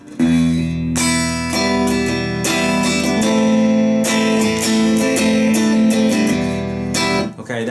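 Guitar plays a darker passage in a minor key, strummed chords in repeated bursts with short gaps between phrases, loud and close, ending on a brief pause; no talking.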